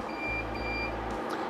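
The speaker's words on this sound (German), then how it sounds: "fängt er an zu piepsen, sagt Wasserfehler" A laser engraver sounding its water-cooling error alarm after the chiller plug is pulled, a steady electronic beep tone running through the clip over a low machine hum, close and clear.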